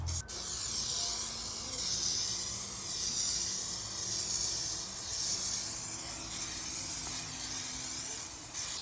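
A spray gun hisses steadily while laying U-Pol clear coat inside a car engine bay, a close, continuous airy spray with gentle pulses as passes are made.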